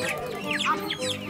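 Chickens cluck and squawk close by at a weekly village market in Bangladesh, a short burst of rising and falling calls over steady crowd murmur.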